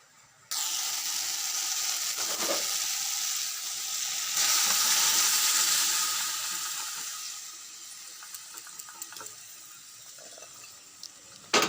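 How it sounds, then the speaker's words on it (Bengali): Dough fritters (bora) frying in a pan, heard as a steady, fairly loud broadband sizzle that swells midway and then eases into a softer crackle with scattered small pops and clinks near the end. "এবার বড়টাগুলো ভেজে নেব"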